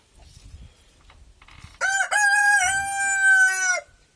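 A Rhode Island mahogany breeder rooster crows once, loud and close, a long sustained call after a few softer clucks and low rustling from the flock.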